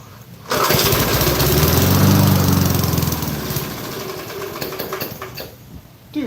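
Lawn mower engine roars close and loud for several seconds, then slowly winds down and sputters unevenly before cutting out.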